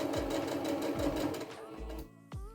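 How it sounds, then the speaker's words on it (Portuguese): A sewing machine stitches a square tablecloth in quick, rhythmic bursts of close mechanical whirring that stop and restart, with a voice talking over it. "Agora, eu costuro normalmente até chegar aqui onde tá a nossa costura inicial e eu vou pra frente e pra trás uma vez."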